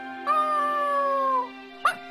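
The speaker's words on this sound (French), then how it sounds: "Oh, un petit chien." A small cartoon dog lets out one long, wavering whimper, then a short, sharp yelp, close and clear over a quiet steady hum.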